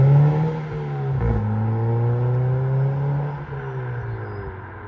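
A Ford Fiesta Zetec S with a new exhaust idles and revs, giving a low, steady burble with a couple of rises in engine pitch, close and alone.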